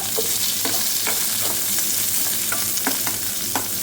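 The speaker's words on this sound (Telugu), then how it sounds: "ఉల్లిపాయలు వేస్తున్నాను" Sliced onions fry steadily in oil in a pan, a continuous loud sizzle with scattered crackles and pops, close and without voices.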